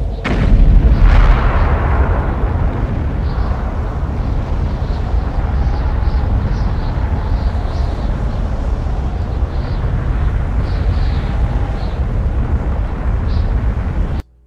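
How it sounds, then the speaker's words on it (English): A volcano erupts in the Hitman (2016) video game, opening with a loud booming blast followed by a long, heavy rumbling roar that sustains evenly before cutting off abruptly. "If you shoot all 10, the volcano on the opposite end of the valley erupts."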